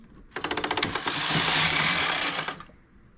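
A knitting machine carriage starts with a rapid series of clicks, then runs across the needle bed in a loud, steady mechanical rush lasting about two seconds before stopping.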